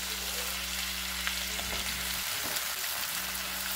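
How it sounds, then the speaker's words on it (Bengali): Pumpkin, brinjal, beans, peas, radish and potato fry together in a pan with a moderate, continuous sizzle under a low steady hum, broken by a brief stirring clatter in the middle; no one speaks. "বেগুন, শিম, কড়াইশুঁটি সব সবজিগুলো দিয়ে দিলাম। খুব ভালোভাবে ভেজে নেব।"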